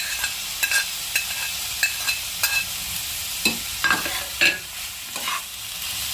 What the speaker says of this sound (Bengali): এবার এটাকে আমি ফ্রাই করে দেবো।